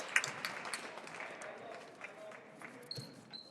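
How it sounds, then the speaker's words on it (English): Crowd applause at a high school basketball game as seniors leave the floor, a diffuse, moderate clapping wash filling the gym with scattered sharper claps and faint crowd noise throughout. "taking his seniors off the floor a few at a time to get a nice round of applause"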